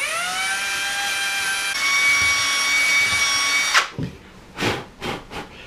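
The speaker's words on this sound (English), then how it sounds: "rerun this drill through that hole" A power drill whines at a steady high pitch as it reworks a hole in wood for a barrel nut, then stops and gives a few short bursts as the bit is worked up and down.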